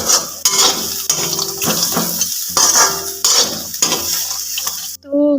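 Makhana (fox nuts) and potatoes frying in a pan, a close sizzle broken by busy stirring, spoon scrapes and clinks against the pan, ending abruptly, with no clear talking.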